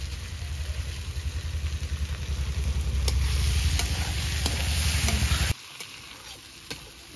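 Jackfruit pieces frying in a pan with turmeric and salt, giving a steady, close sizzle that cuts off abruptly near the end, leaving only faint clicks.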